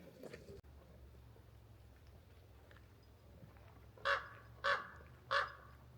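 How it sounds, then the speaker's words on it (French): Crows in Yosemite give three distant, evenly spaced caws near the end, each short and hoarse, rising over a quiet low background hum after several seconds of near silence. "Ici les corbeaux ils parlent américain, ils font pas le même bruit que chez nous."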